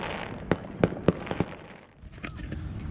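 Fireworks burst at sea near a sailing boat, a string of sharp cracks in quick succession followed by a fainter crackling tail, heard from a moderate distance.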